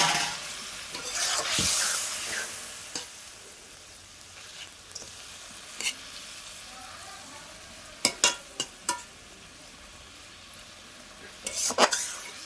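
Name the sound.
fish pieces added to boiling fish curry gravy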